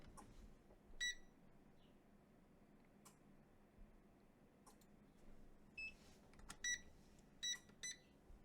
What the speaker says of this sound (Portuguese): Vou ligar aqui o multímetro.